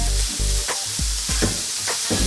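Sugar, spices, salt and pepper being stirred into hot oil in a frying pan, a steady crackling sizzle broken by several sharp spatula scrapes and taps, close and loud.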